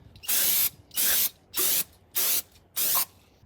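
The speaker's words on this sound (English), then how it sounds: "Now I'm gonna just spray it off one more time with brake clean." Five short bursts of aerosol spray hiss loudly and evenly, each about half a second long, separated by brief pauses.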